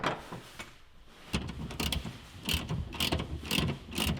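A ratchet tightens suspension bolts on a Mazda MX-5 ND during a new suspension install, making a run of sharp clicking bursts spaced about half a second apart, close and fairly loud, with no talking.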